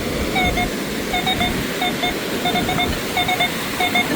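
A metal detector on a beach shoreline sounds repeated short beeping tones in quick bursts over the steady wash of nearby surf.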